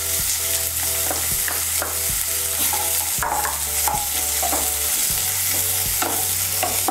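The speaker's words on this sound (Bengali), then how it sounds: "পেঁয়াজটাকে হালকা একটু ভেজে নেব।" Chopped onion with cumin seeds fries in hot oil, making a loud, constant sizzle close up with repeated stirring scrapes, while a steady low hum runs underneath and no one speaks.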